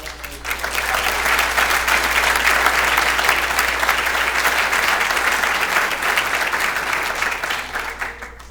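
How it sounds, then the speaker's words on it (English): A conference audience applauding steadily for several seconds, the clapping building quickly and tapering off at the end. "I would really ask you to join me again to applaud her"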